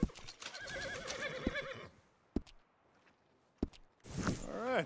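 A horse in Red Dead Redemption 2 neighs in a long whinny, then two sharp hoof thuds, and another loud neigh closes the sequence, clear and close with a synthetic game quality.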